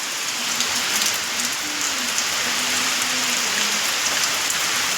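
Steady rain falling in a village during the Snana Purnima festival, a dense even hiss with fine droplet patter, close and constant, with a faint low voice humming or speaking underneath.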